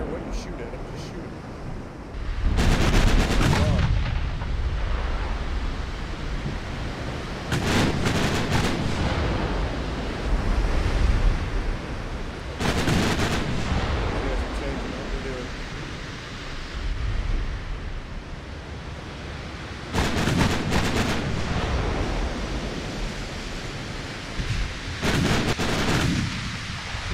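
Heavy warship guns fire in a naval battle game, each salvo a loud booming blast repeating every few seconds above a constant wash of ocean and wind noise, with someone speaking between and over the shots.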